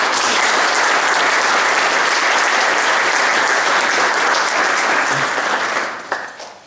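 An audience at an Eagle Scout Court of Honor breaks into loud, dense, sustained applause for a former troop member, filling the room for several seconds before tapering off abruptly.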